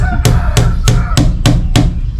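Hammer striking a metal door latch strike plate being set into a door, six sharp, evenly spaced close blows in quick succession.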